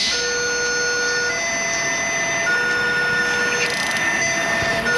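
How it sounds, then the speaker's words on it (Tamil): A train sounds sustained, steady horn tones that shift in pitch over a constant rumbling background. "ட்ரெயின் வருது"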